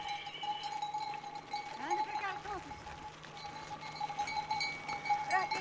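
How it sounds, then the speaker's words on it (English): Young, small sheep herded down a road on a Portuguese farm, with scattered bleats and bell-like tones over steady outdoor noise, moderately close. "These look like quite young sheep."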